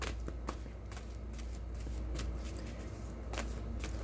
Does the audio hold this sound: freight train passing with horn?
no